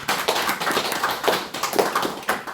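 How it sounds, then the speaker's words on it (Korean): Applause at a church association's monthly worship meeting, a small group clapping in uneven bursts, close and fairly brisk, with no talking over it. "박수 한번 하십시다"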